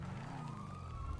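A police car siren wails in a GTA roleplay video game, a steady tonal wail over low background rumble.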